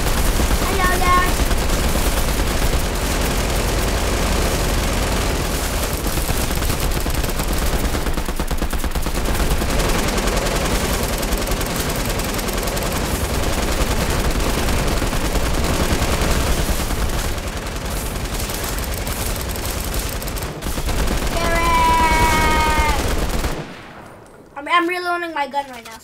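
Sustained rapid gunfire in the video game Fortnite, dense and loud for most of the stretch, then a few trailing electronic game effects near the end.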